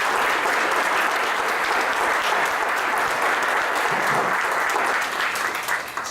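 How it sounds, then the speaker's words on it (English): Sustained audience applause at a university spring alumni reunion, honoring outstanding graduates; a dense, steady wash of clapping from a large crowd fills the whole stretch before easing slightly at the end. "Let's give another round of applause to our outstanding graduates."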